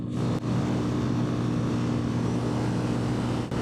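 A Yamaha Fazer FZ25 2026 motorcycle accelerates at full throttle uphill in fifth gear, its engine a loud, steady, close droning hum that holds throughout with no talking.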